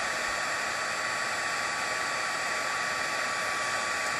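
A heat tool set to level 2 blows continuously over embossing powder on a Christmas ornament card, giving a steady, close, loud hissing roar with no breaks and no talking.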